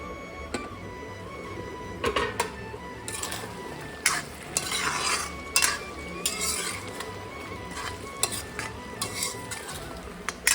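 Meat curry is stirred in a pan at home, with a spoon scraping and clinking against the metal in irregular bursts over a steady low sizzle, close and fairly loud.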